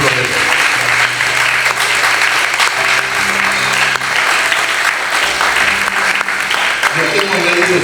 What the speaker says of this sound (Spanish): Si usted está de acuerdo, aplaude al Señor